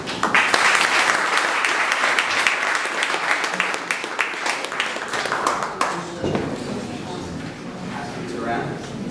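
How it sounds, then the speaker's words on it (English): A conference audience at the Gasparilla Interactive event in Tampa applauds to welcome a speaker, with steady, dense clapping for about six seconds that thins into lighter scattered claps and chatter. "please give a warm round of applause for Vinny with Gasparilla Interactive."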